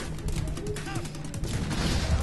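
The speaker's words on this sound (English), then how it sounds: "that was a pretty decent explosion" A loud explosion in the video game Halo: Combat Evolved, mixed with bursts of gunfire and crashing debris in a dense, continuous battle soundscape.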